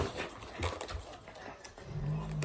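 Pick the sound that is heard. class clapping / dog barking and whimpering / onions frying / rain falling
dog barking and whimpering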